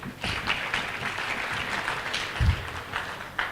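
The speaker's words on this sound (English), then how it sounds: "Let us clap for him once again." An audience at a university freshers' orientation claps steadily for a few seconds, a dense crackling wash of applause in a large hall.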